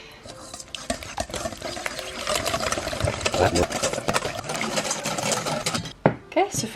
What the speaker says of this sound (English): nut or coconut milk. Whisk it up with 1 egg.